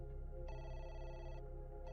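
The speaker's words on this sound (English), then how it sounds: "Just then, the phone rang again." Telephone ringing in a tense setting, a steady electronic ring tone that starts partway through and sustains for about a second before cutting off, then begins again at the end, heard fairly faint over a low background hum.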